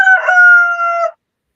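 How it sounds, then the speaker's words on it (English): A single rooster crows close by in one long, clear call of about a second, alone with no other sound around it. "don't worry about the rooster"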